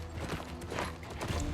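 Horse galloping in the video game New World: a quick run of rhythmic hoofbeats, close and moderately loud, lasting under two seconds.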